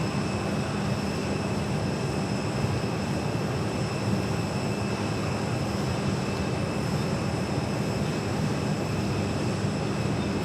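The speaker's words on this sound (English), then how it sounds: "coming in from Philadelphia on the A321" An Airbus A321 airliner arriving from Philadelphia at Phoenix Sky Harbor gives a steady, distant broadband jet rumble and whine, moderately quiet and unchanging throughout, with no talk.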